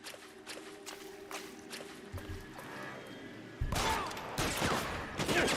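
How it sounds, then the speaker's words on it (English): Gunshots in the LA Noire video game: a few sharp, loud cracks over a quiet ambient bed, followed by a burst of dense, noisy gunfire in the final seconds. "Shot him right in the back."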